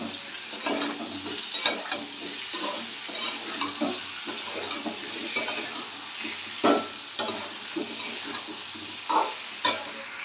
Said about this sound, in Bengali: জিরে ধনে আদা লঙ্কা সব একসঙ্গে বাটা দিয়ে দিলাম।